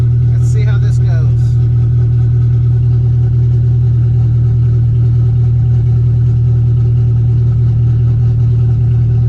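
An Acura Integra with a swapped K24A2 engine idles while warming up, a steady low rumble held throughout; a brief chirping sound rises over it near the start.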